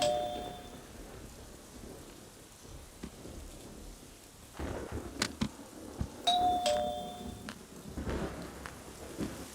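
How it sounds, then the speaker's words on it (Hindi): Steady heavy rain hisses across the whole stretch, with a two-tone doorbell chiming near the start and again partway through, followed by louder close drips and rustles. "बारिश को तो रुक जाने दे"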